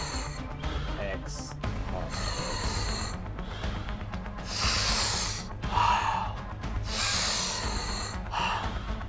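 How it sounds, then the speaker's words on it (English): The main character's heavy breathing in the video game Deus Ex: Human Revolution: repeated loud, rasping gasps and snorts in uneven bursts over a low background rumble, with no talking. "that breathing sound is so annoying"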